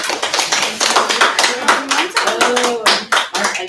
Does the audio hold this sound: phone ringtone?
no